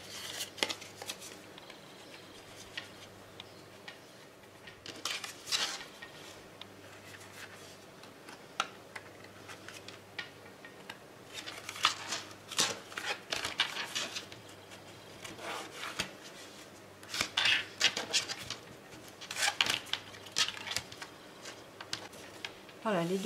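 Scissors trimming paper to size, with short bursts of snipping and rustling sheets close by, spread across a quiet stretch with pauses between cuts.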